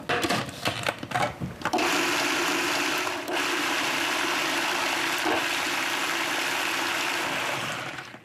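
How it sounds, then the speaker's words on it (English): A blender purees cooked fennel, starting with a few clattering bumps before settling into a loud, steady whirring roar close by that slowly tapers at the end, with no talk. "So now, we're gonna puree it."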